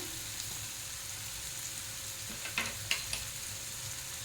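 Soybean curry and spices, including Kashmiri chilli powder and salt, sizzle steadily in a pan, a continuous frying hiss with a few sharp scraping stirs near the end, no voices present.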